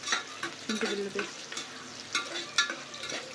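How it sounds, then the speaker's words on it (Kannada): Onions frying and being stirred in a pan for donne biryani, with a steady sizzle and scraping spoon strokes in uneven bursts, close by and with no talk. "ಈಗ ಈರುಳ್ಳಿ ಎಲ್ಲ ಚೆನ್ನಾಗಿ ಫ್ರೈ ಆಯ್ತಲ್ಲ"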